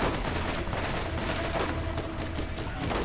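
Dense, continuous gunfire from the video game Borderlands, a loud unbroken fusillade of rapid shots that fills the whole stretch without pause.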